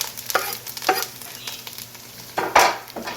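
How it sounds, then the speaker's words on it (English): Onions and garlic hit a hot pan for seafood pasta, giving a soft sizzle broken by several louder stirring scrapes and clatters, close and with no talk. "we're adding our onions, our garlic."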